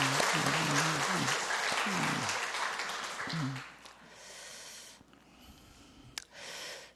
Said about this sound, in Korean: 우리 박수 한번 하시도록 하겠습니다